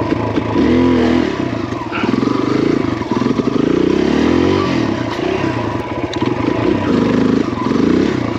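A carbureted dirt bike engine revs hard and loud on a hill during a wheelie attempt, the throttle rising and falling in sustained surges with clattering mechanical noise close by.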